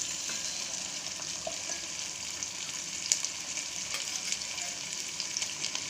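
Onions and garlic paste frying in a pan, a steady, soft, even sizzle that holds throughout with faint occasional crackles and no voices.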